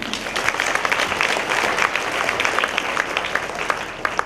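A large audience at a Marian festival in the Kamanayakkanpatti basilica claps in a dense, sustained round of applause that holds steady for several seconds.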